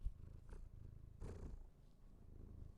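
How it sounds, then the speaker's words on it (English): A house cat purrs softly and steadily up close, a low rumbling drone with slight rhythmic pulses, with no voices. "Can you hear Steve purring"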